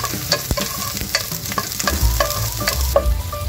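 Garlic sautéing in hot cooking oil, a close crackling sizzle with repeated scraping and clacking of stirring over a low rumble, with no voices.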